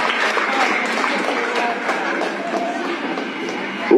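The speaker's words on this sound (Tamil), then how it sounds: "பலத்த கரகோஷம் கொடுங்க." A packed auditorium audience applauds steadily at a Tamil public talk, a dense continuous wash of clapping at even loudness throughout, with some voices mixed in.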